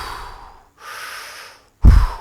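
A man imitates heavy breathing with two long airy breaths in a row, then one sharp, forceful gasp at the end. The sounds are close and fairly loud, with no other speech.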